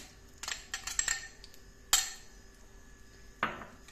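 Fine semolina (rava) poured into a pan with ghee, a cluster of light metallic clinks and taps of a utensil against the pan, followed by a couple of sharper knocks, close and fairly quiet, no talking.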